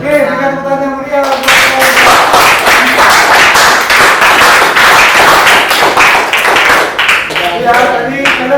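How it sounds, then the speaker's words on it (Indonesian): A classroom audience of students claps enthusiastically for several seconds, dense and loud, with a teacher's voice heard before and after the applause. "berikan tepuk tangan yang meriah"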